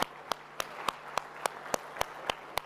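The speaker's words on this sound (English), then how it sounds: "huge round of applause. Let's give that." A single person claps slowly for panel members at an Indian light festival event, making sharp, evenly spaced hand claps about three per second. The claps are fairly quiet against a low hum in the room.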